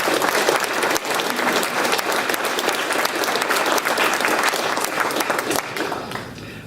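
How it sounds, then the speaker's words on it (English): A large crowd at a TSA airport awards ceremony gives sustained, loud applause, a dense continuous clapping that fades slightly toward the end. "So, again, if we could give a round of applause for Todd, even though he's not here."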